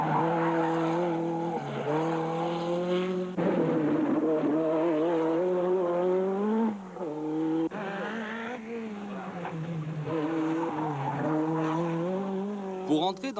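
A small, agile Renault 5 Turbo rally car skids and slides with its engine note sweeping up and down continuously, close and loud throughout, with brief dips as it changes direction.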